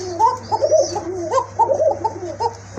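A single male Kokar pigeon coos close by in a clear, repeated bubbling run of soft throaty notes, with a steady low hum underneath.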